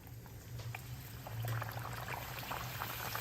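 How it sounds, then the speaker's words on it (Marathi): Wheat flour puris frying in hot oil on a medium-high flame, a steady close crackling sizzle with fine spattering bubbles that swells slightly midway, with no talk over it. "बाकीच्या पुऱ्या तळायला घ्यायच्या."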